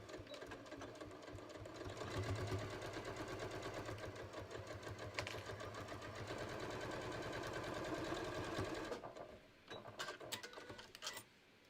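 A sewing machine stitches the bottom edge of a pair of shorts, its rapid, even mechanical chatter running continuously before stopping, followed by a few clicks and handling noises.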